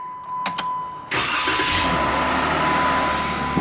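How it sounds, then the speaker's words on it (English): Jeep Wrangler engine starting: a couple of quick clicks, then the engine catches abruptly and settles into a steady close idle. "Okay, start the car."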